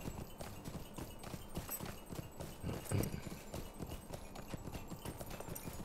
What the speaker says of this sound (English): I need a faster horse.